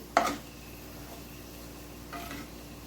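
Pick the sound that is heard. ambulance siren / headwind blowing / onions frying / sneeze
onions frying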